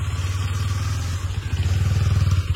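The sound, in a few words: motorcycle engine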